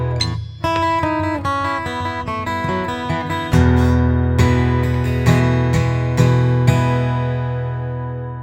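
An acoustic-style guitar lick from a song intro, a run of clearly plucked, ringing notes over a low droning bass. A stronger strummed chord about halfway through lifts the level, then the notes gradually decay.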